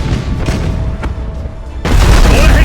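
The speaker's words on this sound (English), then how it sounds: "Broadside macro cannons ready to fire on your order" Broadside macro cannons fire from a warship in the space-combat game Battlefleet Gothic Armada, heard as loud, booming artillery under a steady low rumble; a heavy blast lands near the end and the roar stays thick after it.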